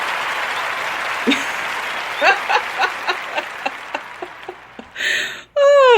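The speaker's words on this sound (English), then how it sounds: "Let me give myself a round of applause, okay?" Clapping from a round of applause on a talk show, a steady broadband patter lasting several seconds that thins into scattered individual claps before a voice cuts in at the end.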